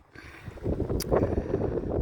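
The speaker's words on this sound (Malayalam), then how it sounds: "കാറ്റ് സഹിക്കാൻ പറ്റില്ല. ഭയങ്കര കാറ്റ്, ഭയങ്കര കാറ്റ്." Strong outdoor wind buffets the microphone in a dense, rumbling roar that builds after a quiet start and stays steady and loud to the end, with no speech.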